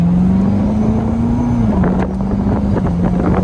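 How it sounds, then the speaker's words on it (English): A Corvette drives along a back road with a steady, loud engine drone and a faint turbo note, heard throughout under wind buffeting and with no talk. "Y'all hear the turbo?"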